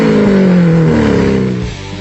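A 6.5-liter V12 car engine roars loudly and close, a sustained growl that holds strong and then eases off toward the end.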